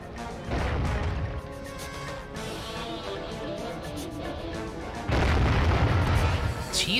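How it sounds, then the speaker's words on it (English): A loud, booming explosion from The SpongeBob SquarePants Movie video game, rumbling for several seconds with a second heavier blast near the end. "Jesus Christ, that explosion."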